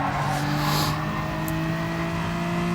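Racing car engines from a video game race hold a steady, loud droning whine with sustained tonal hum. A brief higher swell comes early and a short sharp chirp near the middle, with no talking.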